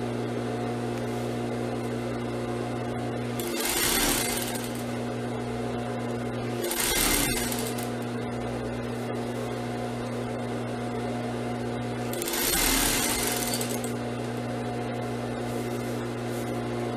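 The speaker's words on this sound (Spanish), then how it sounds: "vamos a empezar a coser." A sewing machine stitches a flexible hoop seam for a crinoline skirt, a steady close motor whir carrying on throughout, with three brief louder bursts along the way.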